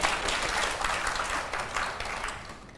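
A studio audience claps steadily for a few seconds during a Vietnamese dating show, the applause dense and fairly distant, fading slightly toward the end.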